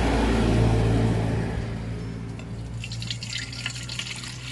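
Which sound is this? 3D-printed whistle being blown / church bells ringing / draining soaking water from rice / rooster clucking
draining soaking water from rice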